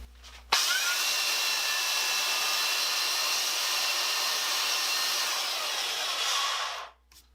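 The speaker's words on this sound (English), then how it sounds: "50 grit sandpaper on there. It's going to cut fast." Coarse 50-grit sandpaper rasps steadily across a flat antique metal casting base, a loud continuous abrasive scrubbing that starts abruptly and runs for about six seconds before stopping, with no talking.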